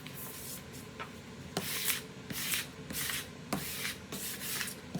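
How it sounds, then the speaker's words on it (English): Squeegee pressed and rubbed over a vinyl stencil on a wooden noodle board, giving repeated close, dry swiping strokes in an irregular rhythm. "And then you have to squeegee or brayer it down."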